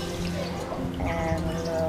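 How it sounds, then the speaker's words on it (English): Water from a small garden pond waterfall trickles and splashes steadily, a soft continuous burble close by. "waterfall"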